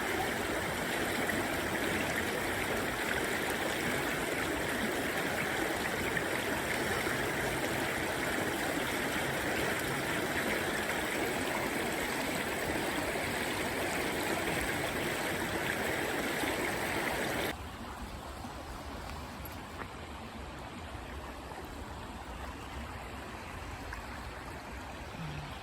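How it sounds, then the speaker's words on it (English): Water in a stream flows below a bridge, a steady broadband rush that stays close and fairly loud, then drops to a softer, duller flow for the last several seconds, with no voices. "I'm up on the bridge and I just love the sound of the water."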